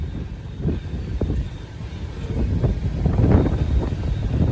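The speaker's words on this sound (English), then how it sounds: "That was a long train, a lot of steel coils on that one." A long freight train loaded with steel coils rolls past on the line, giving a low, continuous rumble with faint clanks, mixed with wind buffeting the microphone and building gradually louder, no voices.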